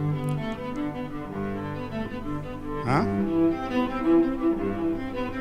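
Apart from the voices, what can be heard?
Bach cello solo recording played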